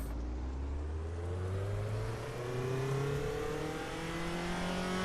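A race car's engine in the Raceroom driving game revs up steadily through its four-speed gearbox, pitch climbing in long rising sweeps with gear changes around 6,500 RPM, loud and continuous with no voices.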